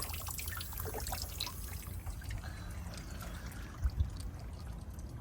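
Water trickles and drips from a leaking hose hookup on a new hose, a steady close splashing stream with a couple of louder drips near the end.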